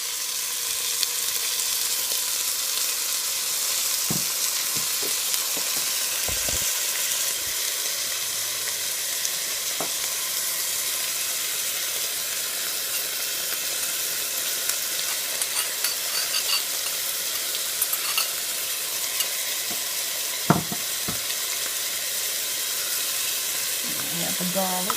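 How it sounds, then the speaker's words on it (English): Onions, peppers and garlic sizzle steadily in a pan for chicken and poblano soup, a constant frying hiss with occasional spoon stirs and scrapes, close and moderately loud throughout. "And now I'm going to add my peppers, onions, and garlic."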